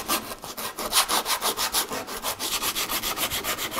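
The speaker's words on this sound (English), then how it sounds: "I'm gonna sand the shaft of this paddle, and this is gonna clean up this mushrooming." Sandpaper rubs back and forth along the shaft of a wooden canoe paddle in steady, rhythmic strokes, about four or five per second. The sound is close and moderately loud, with no talking.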